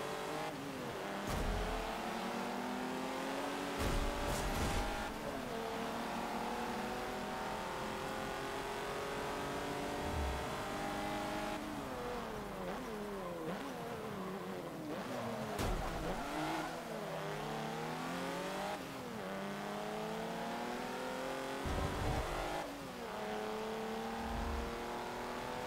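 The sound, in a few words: car engine racing in video game Forza Motorsport 7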